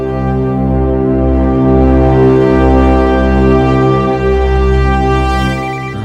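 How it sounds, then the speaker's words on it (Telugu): A phone ringtone rings in a Telugu film scene: a steady, loud electronic tone with sustained harmonics, briefly broken by short gaps, playing alone without speech. "ఫోన్ ఇక్కడ రింగ్ అవుతుంది ఏంటి?"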